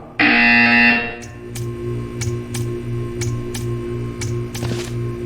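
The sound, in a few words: buzzer in Portal 2 video game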